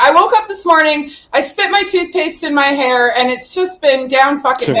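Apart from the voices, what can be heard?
No everyday noises stand out.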